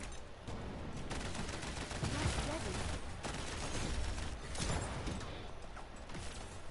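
Dense, rapid gunfire crackles in continuous bursts at moderate distance in the video game Paladins, with voices talking underneath.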